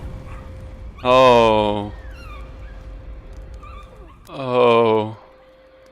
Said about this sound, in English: First time one of my videos is filled with dog barking and it's actually meant to be there.